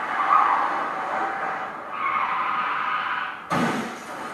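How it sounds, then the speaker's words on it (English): Car tyres skid with a long, loud squeal as a film sound effect, holding for several seconds before an abrupt crash-like impact near the end. "It doesn't actually show the car crashing, only the sound effect."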